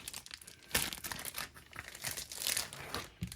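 A large pepperoni stick being unwrapped from its plastic packaging, close crinkling and rustling with sharper tearing bursts in an irregular rhythm, no talking.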